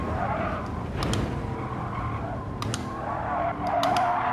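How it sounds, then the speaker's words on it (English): Tires squealing in a racing video game, a sustained skidding screech over a steady engine drone, with a few brief sharp clicks scattered through. "I could hear the tires squealing"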